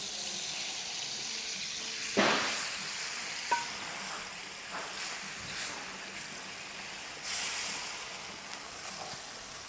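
Tomatoes drop into a hot pot of soy-sauce-seasoned ingredients for slow-cooked Peruvian lamb and sizzle steadily, with a few splashy thuds, wet bubbling and stirring scrapes at moderate volume and no voices.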